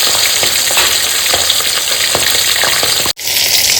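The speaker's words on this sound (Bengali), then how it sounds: "দেখো মাছ কি সুন্দর ভাজছে" Pomfret fish frying in hot oil in a wok, a steady close sizzle with small crackling pops that cuts out abruptly near the end, then resumes more quietly.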